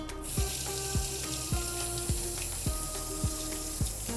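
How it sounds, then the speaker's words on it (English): Water running steadily from a sink tap as hands are washed in a kitchen, a continuous close hiss with faint rhythmic knocks in the background. "So we're gonna wash our hands."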